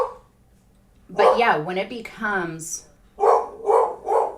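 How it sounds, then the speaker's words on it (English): Dog barking in three sharp repeated bursts near the end, heard indoors after a stretch of talk, fairly loud and close. "my dog just decided to start barking"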